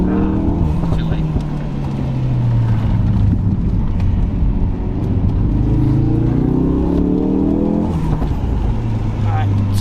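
A Ford RS car drives hard along a winding mountain pass, its engine droning and climbing in pitch through repeated revs and gear changes, loud and close throughout.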